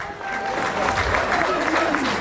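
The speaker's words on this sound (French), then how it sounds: "applaudissez s'il vous plaît" Brief, steady applause from an audience at an anniversary gathering with speeches, close and moderately loud, with voices mixed into the clapping.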